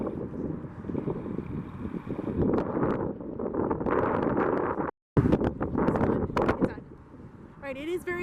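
Strong wind buffets the microphone outdoors in open grassland near bison at Lakeland, Minnesota, a loud rushing roar with gusts under raised voices, briefly cutting out mid-way.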